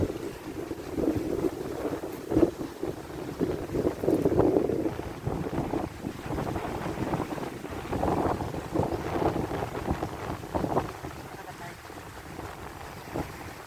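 Strong wind gusts buffet the microphone in a steady, rumbling roar, with the sea washing faintly underneath.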